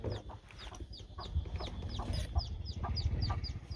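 Several chickens cluck steadily at close range in a village yard where hens are laying eggs, with repeated short calls over a low, busy rural background and no talk.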